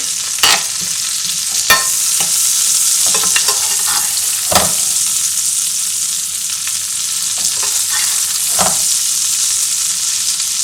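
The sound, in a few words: steak frying in a pan with oily sauce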